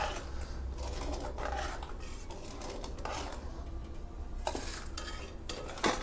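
Edible gum (gond) roasts gently in ghee in a pan, giving a soft continuous sizzle under repeated scraping strokes of a spoon stirring against the metal, close and without talk.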